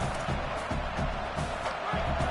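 A stadium crowd at a college football game roars in a steady, dense wash of cheering and noise, loud and continuous throughout with faint rhythmic thumps underneath.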